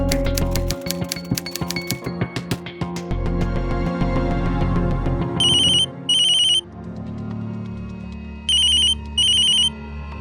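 A mobile phone ringtone rings in short repeated electronic bursts, loud and close, over a musical TV drama background score.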